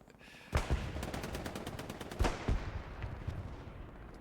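Rapid machine-gun fire rattles through a competitive online shooter match, with sustained bursts of closely spaced shots and a few heavier reports, heard at a moderate distance over a dense background of battle noise.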